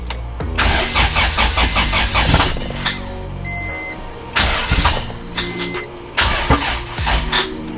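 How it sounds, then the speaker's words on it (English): A B-series engine-swapped Honda Civic with a weak battery cranks and starts in repeated attempts, the starter whirring in bursts before the engine catches and revs, loud and close, with no talking. "and start the car up."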